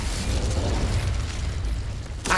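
Incendio fire spell cast in Hogwarts Legacy, a sustained loud roaring burst of flame with a whooshing rumble, ending in a sharp bright crackle.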